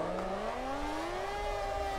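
Racing car engines in the video game Assetto Corsa drone steadily, their pitch rising slowly as they rev.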